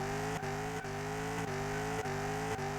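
Ford GT40 in Car Mechanic Simulator 2021 doing donuts, a steady loud engine drone held at high revs, with brief dips every half second or so as the car spins.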